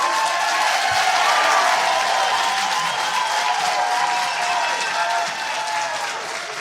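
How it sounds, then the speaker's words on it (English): A crowd at a city commission meeting cheers and applauds. The sustained wash of clapping and cheering holds steady in the room and then eases off slightly near the end. "the folks that were just cheering behind me"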